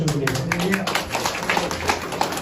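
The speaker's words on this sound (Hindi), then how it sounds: "तो ताली बजाओ" An audience at a church testimony gathering claps steadily in a quick, even rhythm, a dense patter of hands continuing for a couple of seconds with voices faintly mixed in.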